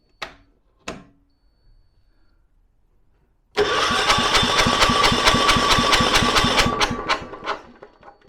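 A Kipor 6700TA diesel generator with a starting fault cranks and catches after a couple of short clicks, then runs with a loud, close, rapid rhythmic diesel clatter for several seconds before slowing.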